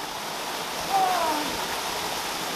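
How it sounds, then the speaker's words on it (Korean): A steady, rushing roar of falling water close by, constant and full throughout: a spring-fed waterfall pouring over rocks at a desert oasis in Tunisia. "물소리가 점점 커지고 있는데요. 여기 이렇게 폭포가 있어요."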